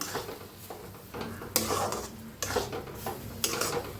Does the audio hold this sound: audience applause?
no